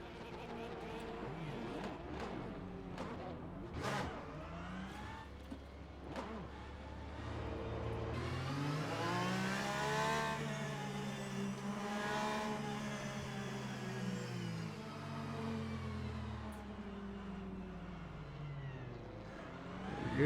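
LMGTE race cars roll around Monza on a formation lap in Le Mans Ultimate, engines droning and revving in rising and falling tones, several cars close together with gear-shift swoops.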